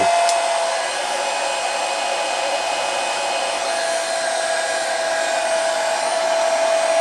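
A hair dryer or heat gun set on low blows steadily while warming the paint on the legs of a 1/4 scale Sideshow Harley Quinn Hell on Wheels statue, a constant loud airy whir with no talk.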